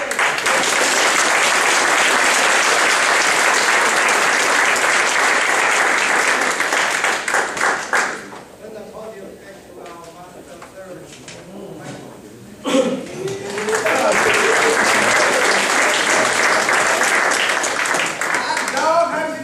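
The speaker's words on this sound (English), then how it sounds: "Please give them an applause." Loud sustained applause from an audience at a humorous speech contest, breaking off for a stretch while a voice speaks over quieter clapping, then swelling back to full, continuous clapping.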